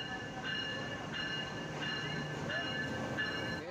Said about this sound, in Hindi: ये आ गई है हमारी ट्रेन जो कि बड़ी स्लो है फ़िलहाल, नाम इसका तेज़ गाम है।